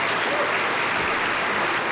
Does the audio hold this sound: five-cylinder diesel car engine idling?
no